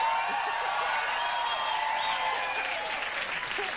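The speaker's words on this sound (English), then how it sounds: "Mr. Big Shot, the crowd goes wild." Late-night television studio audience applauding and cheering, a steady wash of clapping with a few whoops, sustained and fairly loud without talk.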